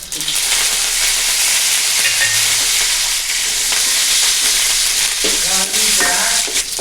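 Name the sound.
dried red chillies and curry leaves frying in oil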